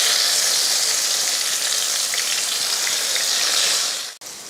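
Ground paste for coriander rice frying in a hot pan, a loud continuous sizzle that stays steady for about four seconds before cutting off abruptly.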